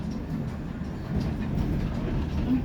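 Steady rumble of a steam train running on rails between Minehead and Watchet, heard from inside a carriage as a continuous low rolling drone with faint clatter.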